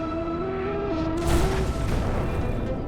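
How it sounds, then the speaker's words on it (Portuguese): A bomb blast sound effect goes off beside a 100-metre asteroid, a sudden loud broadband boom that rumbles and fades over a sustained musical drone, with no talk. "A explosão criou uma super cratera e nada mais."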